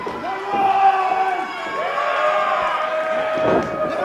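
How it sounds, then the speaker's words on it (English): At an independent wrestling TV event, a large crowd chants in loud rhythmic unison, sustained voices rising and falling together. "The crowd chanting, counting along."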